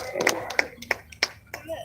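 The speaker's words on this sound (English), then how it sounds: "Big round of applause then for Private Gray." A handful of sparse, separate hand claps ring out from spectators at the Bournemouth Airshow 2018 after a display parachutist lands, with an announcer talking over them.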